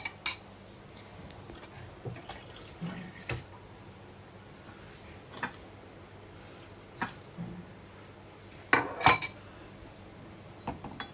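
A utensil stirring food in a pot, with sparse clinks and scrapes of metal spaced seconds apart and a brief cluster of knocks near the end, quiet and close with no talk.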